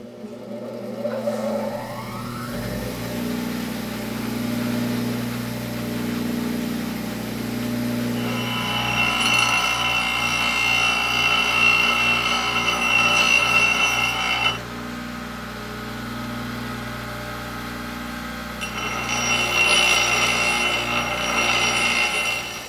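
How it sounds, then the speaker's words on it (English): A power grinder shaving down a wooden itomaki tuning peg for a tsugaru shamisen, a steady close whirring hum that rises into louder high grinding passes, with no talking. "Time to hit the grinder."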